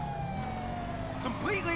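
Police car siren in the video game GTA5, wailing tones sweeping up and down over a running engine, with a brief speech-like sound under it.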